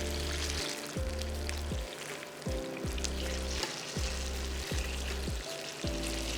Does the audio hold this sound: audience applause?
no